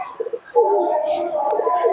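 Soft, low Giribaz pigeon coos repeat in a steady murmur, close by, with a brief brighter rustle partway through.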